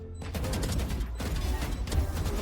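Rapid bursts of gunfire rattle in quick succession, loud and close, like automatic weapon fire in a game.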